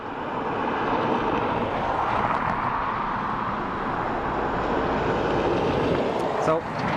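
A Ryanair airliner arriving from Naples at Dublin Airport, a continuous distant engine roar and broadband rumble, with a voice talking over it.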